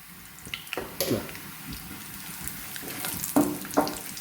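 Chili powder is stirred into browned onions and curry leaves for a mackerel fish curry, a soft sizzle with scraping and clinking of a spoon against the pan, fairly close.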